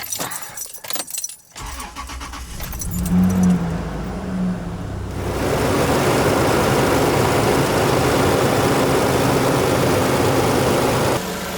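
A lifted Honda CR-V starts up after some rattling and clicks, then the engine settles into a steady, loud, close idle for the rest of the clip.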